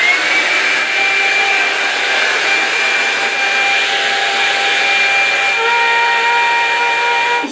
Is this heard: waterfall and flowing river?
no